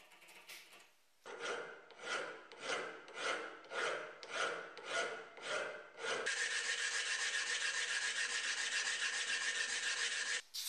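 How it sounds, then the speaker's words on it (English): A hand file tidies up a chattered countersink in a microphone base plate: about nine even, rhythmic rasping strokes, then a steady continuous scrape, close and clear with no talking. "The countersink left a lot of chatter, so I tidied it up using a file."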